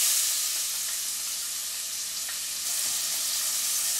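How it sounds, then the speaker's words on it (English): Half a large diced onion sautés in a pan for a chickpea curry (chole), giving a loud, steady, close-up sizzle that runs unbroken throughout, with no talking. "And so we gotta let these saute for a while until they've kind of turned a bit brown."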